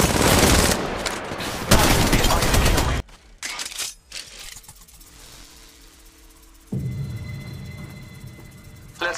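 Rapid automatic gunfire in Apex Legends Mobile, loud sustained bursts that cut off, then quieter scattered shots and game sounds before another heavy burst resumes.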